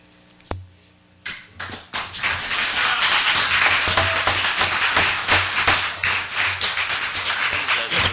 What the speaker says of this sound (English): No more applause or anything from here on in.